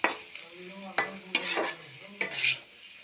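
Stirring and frying in an iron kadai, with a few bursts of metal scraping and clinking of a utensil against the pan, plus a light sizzle, close by with short pauses between strokes.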